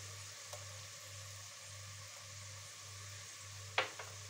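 Tomato paste frying with onions in a pan, a faint steady sizzle with occasional soft stirring clicks and one brief sharper scrape near the end, heard alone without talk.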